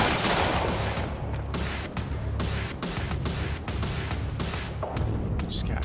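Sustained gunfire in the shooter game Quantum Break during a library chase, loud rapid bursts and repeated shots across several seconds, with a voice talking over it.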